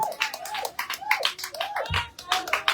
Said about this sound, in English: Are you sure you're clapping for our First Lady?